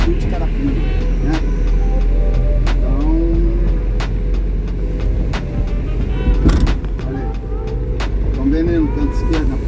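Road traffic with trucks passing near the Carapina viaduct: a continuous low engine rumble with passing vehicles and occasional louder surges, while someone talks over it.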